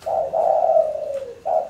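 A tame spotted dove (tekukur) in breeding condition coos nearby, a long low rolling call followed by a short pause and the start of another coo, loud and clear with no talking.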